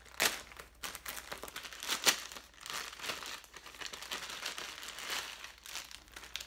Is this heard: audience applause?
no